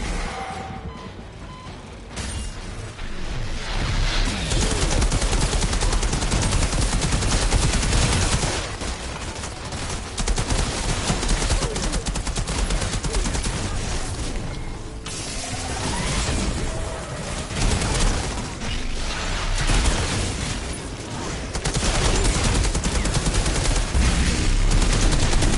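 Video game gunfire in Outriders pours out as dense, loud, almost continuous bursts of shots and crashes for the whole stretch, with brief dips between volleys and no speech.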